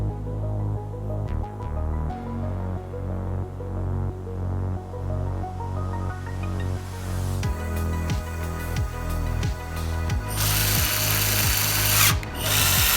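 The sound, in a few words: power screwdriver installing screws in Samsung TV back cover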